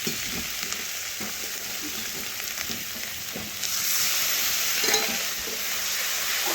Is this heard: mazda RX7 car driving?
no